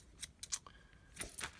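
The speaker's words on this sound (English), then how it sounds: "Here's a pair of scissors" Metal scissors or pinking shears being handled at a desk, a few faint metallic clinks and jingles in quick succession, close but quiet, with no talking.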